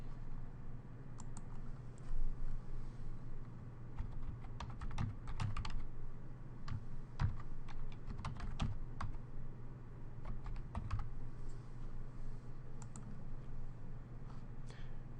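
Steady bursts of keystrokes on a computer keyboard, close and fairly quiet, with irregular clicking rhythms and short pauses, as dummy details such as an email address and password are entered.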